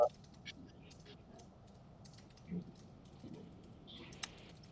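Quiet, sparse keystrokes on a computer keyboard as a command is typed, a few soft isolated clicks with one sharper tap near the end over a low room hum.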